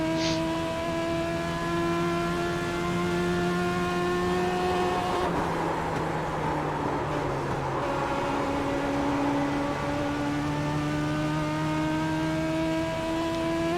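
Race car engine in the iRacing sim game drones steadily at high revs, its pitch dipping and climbing through gear shifts as the car laps a track, loud and continuous with no talk.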